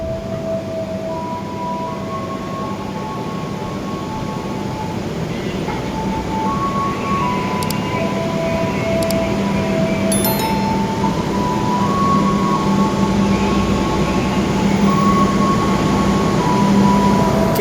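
Pasundan New Generation train stopped at Wates station, a loud steady rumble of idling rail equipment with tonal hums, a few faint clinks and a distant announcement-like tone, continuous throughout.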